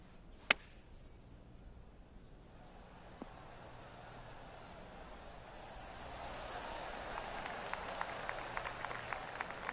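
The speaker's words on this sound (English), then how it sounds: "Oh, golf clap." A swelling patter of polite golf applause in a Tiger Woods PGA golf video game builds from near silence into a steady, soft round of clapping, with a sharp click near the start.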